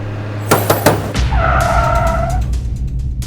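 A car skids to a sudden stop in a TV drama scene: a few sharp knocks are followed by a loud, close tire screech that fades over about a second, with a low engine hum underneath.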